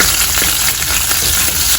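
Finely chopped green chilies fry in hot oil for Kerala puli inji, giving a loud, close, continuous sizzle and crackle with no pauses.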